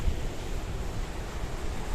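Sea waves lapping on the beach at Protaras, Cyprus, a steady broadband wash mixed with wind noise on the microphone, continuous and fairly close, with no talking.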